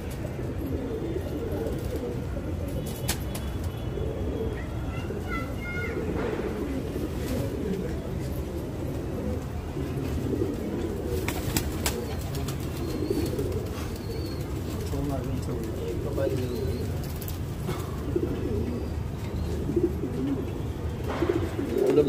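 Pigeons coo softly and repeatedly throughout a pigeon-flying contest in Delhi, a low rolling murmur of many birds close by, with scattered chirps, occasional sharp clicks and faint background activity over a steady ambient hum.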